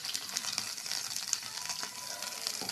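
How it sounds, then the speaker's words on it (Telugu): Ginger-garlic paste sizzling in hot oil for a mutton curry, a steady bright crackling hiss with small pops throughout, close and continuous with no voices. "మటన్ కూర కోసం ఆయిల్ వేసుకొని అల్లం వెల్లుల్లి ముద్దలు"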